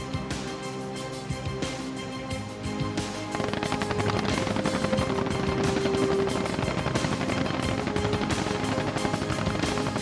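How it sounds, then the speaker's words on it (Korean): Four Cobra attack helicopters fire 20mm cannons during a combined live-fire training exercise. Rotor drone and rapid rattling fire carry loud and continuous, thickening partway through. "먼저 선두 코브라 헬기 4대가 20mm 기관포로 적을 제압하겠습니다."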